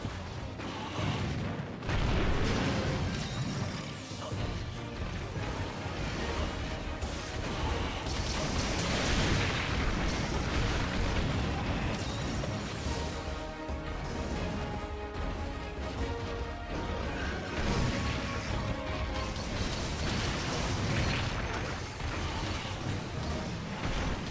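Dense, continuous crashing and rumbling video game explosions in Monster Hunter Generations Ultimate pile up over and over, mixed with clanking mechanical noise and music, loud throughout with no pauses.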